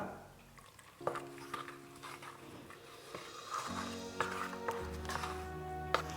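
Garlic powder, ginger powder and salt stirred together in a bowl, giving soft scraping with a few light clinks of a spoon against the dish, close and fairly quiet with no talking.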